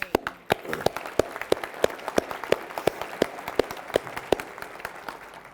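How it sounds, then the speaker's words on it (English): A small group claps in a steady, even rhythm, sounding like a modest round of applause in a room. "let us give you a round of applause"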